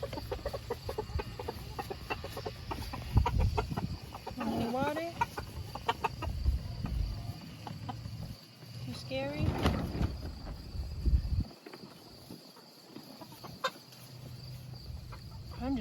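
A farm chicken clucks softly in a few short bursts close by, heard between and under a person's quiet talk.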